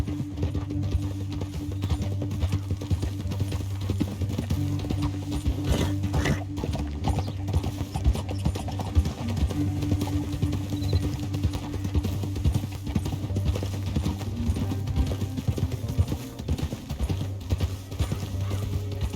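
Steady rhythmic hoofbeats of a galloping horse in the video game Red Dead Redemption 2 continue throughout over a low droning background, fairly quiet and unbroken, with no clear talking.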